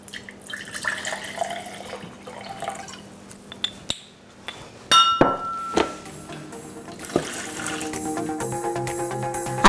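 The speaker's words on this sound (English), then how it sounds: "a half a glass of white dry wine," Dry white wine poured into a roasting pan holding chicken for roast chicken with stuffing, with faint trickling and a few sharp glassy clinks midway, then a steadier splashing pour toward the end, close and moderately quiet.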